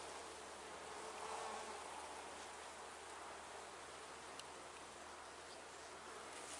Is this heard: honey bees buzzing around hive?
yes